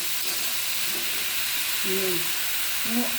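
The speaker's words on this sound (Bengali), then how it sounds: "নেড়ে চেড়ে একদম মজাতে হবে।" Pumpkin flowers stirred and fried in an oiled pan, a steady close sizzle with occasional scraping strokes of a spatula and a couple of brief squeaky tones.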